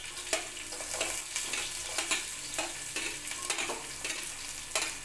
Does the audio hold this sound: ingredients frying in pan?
yes